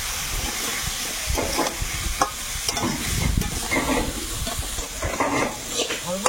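Chunks of elephant foot yam fry in a wok with only a little oil while being stirred, a close crackling sizzle broken by repeated scraping and rustling strokes of the spatula.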